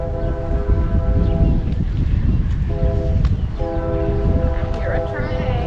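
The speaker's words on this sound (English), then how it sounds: "I hear a train. Yeah, that's the other thing. You hear trains quite regularly out here." Train passing near an RV campground, its horn sounding in repeated long blasts over the loud rumble of the rails, with wind noise throughout.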